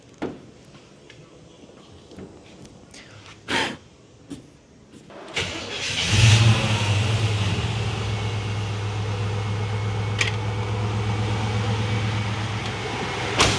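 Chevrolet squarebody truck with throttle body injection cranks over and fires up after a few knocks and clatters, then settles into a steady, close idle with a brief rev.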